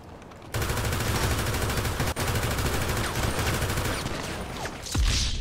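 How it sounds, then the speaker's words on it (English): Dense, continuous gunfire in the video game GTA: a sustained fusillade of rapid shots filling the scene, with one sharp louder crack midway and a heavy burst near the end. "Who shot at me?"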